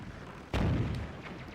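A single booming cannon shot from an enemy ship in Zelda: The Wind Waker, a sudden heavy blast that decays quickly, mid-distance.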